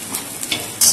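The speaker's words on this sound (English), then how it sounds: "heat up the oil and then add the garlic" Garlic goes into hot sesame seed oil in a wok, giving a brief bright crackling sizzle that swells sharply near the end, close and fairly loud with no talking.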